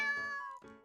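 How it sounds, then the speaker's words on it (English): A cat under a bench at batting cages in a video game meows twice, clear and close, a drawn-out tonal call followed by a shorter one. "I hear a little meow from below me."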